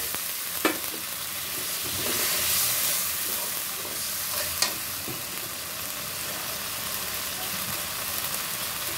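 Spiced masala sizzles and hisses steadily in a hot pan while it is cooked down for an egg and pointed gourd curry, with a couple of brief stirring clinks over the constant frying hiss.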